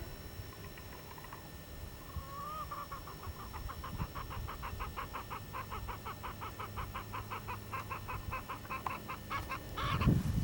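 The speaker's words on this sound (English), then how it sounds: "There's not supposed to be any chickens over here." Chickens on a farm, with clucking and fowl calls running as a steady, repeated pattern of short notes over rustling background noise, at moderate loudness and fairly close, without talk.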